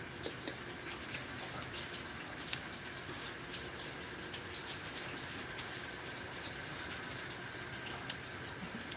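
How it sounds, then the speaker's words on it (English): Cut vegetables for a saltfish and gullybean eggplant dish are rinsed under a running kitchen tap, a steady close stream of water splashing into the sink with small bumps of handling throughout and no talk. "I've washed them, and let me just wash them again"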